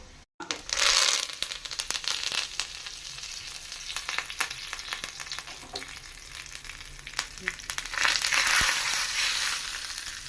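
Mustard seeds and dried red chilies frying in hot oil for a Telugu palakura pappu tempering, a steady close crackling sizzle with sharp popping bursts, louder at the start and again near the end.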